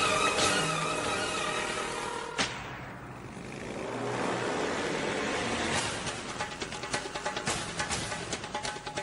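An auto rickshaw engine pulls away: a loud noisy rush dips briefly, then the engine builds again with rapid puttering pulses toward the end.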